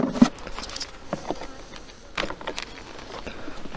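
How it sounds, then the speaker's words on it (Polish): Agitated honey bees buzz around a hive in a September apiary before it is opened, with scattered close fly-bys of individual bees swelling and fading over a soft background hum. "O, już pszczoły są niespokojne."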